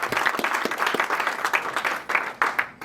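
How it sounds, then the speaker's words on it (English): An audience at a stand-up comedy showcase at Dad's Garage Theatre applauds the first-time comedians in a steady, dense round of clapping with a few sharper bursts, close and fairly loud, with no talking. "Clap one more time for all the comedians, first timers tonight."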